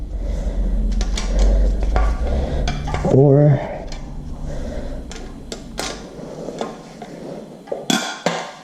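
A creaky Honda K20A2 engine under rebuild is turned over by hand, giving scattered close metallic clicks, clunks and scrapes while a voice counts aloud.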